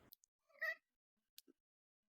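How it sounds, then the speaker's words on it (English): A pet cat gives a single short, quiet meow, close by, with a few faint clicks and rustles around it in an otherwise silent room. "My cat says hi"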